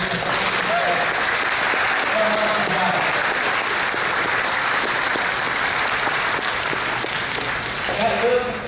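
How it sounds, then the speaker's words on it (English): An audience at a school Veterans Day program breaks into steady, full applause that fills the room and carries on for several seconds, with faint crowd murmur underneath. "Can we give them a hand clap of appreciation?"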